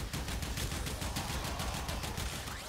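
Rapid, dense gunfire bursts from a Kuva Kohm shotgun in the Warframe video game, a continuous barrage of loud, overlapping shots with no speech.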